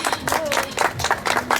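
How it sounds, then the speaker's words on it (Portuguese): Audience applause at an evening literature and culture event, a short stretch of lively, dense hand clapping with pulsing bursts, fairly close. "Podem bater palmas."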